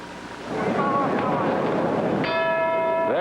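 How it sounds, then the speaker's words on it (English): Boxing ring bell signalling the start of round six in a 1957 fight between Carlos Ortiz and Felix Chiocca, a single ringing strike that sustains and fades over the broad hiss of the arena crowd, heard near the end. "There's the bell for round number 6."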